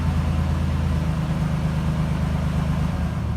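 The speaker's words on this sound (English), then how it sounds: "Car sounds awesome on a cold start." A 1989 Pontiac 20th Anniversary Turbo Trans Am engine runs just after a cold start, with a steady, loud low idle rumble throughout and no talking.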